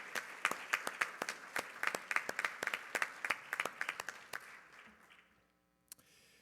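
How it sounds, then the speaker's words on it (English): Conference audience applauding at a closing session, a steady burst of clapping hands that carries for several seconds, then thins out and fades to near silence with one last stray clap. "So round of applause for both Harl, who's coming up, and the new"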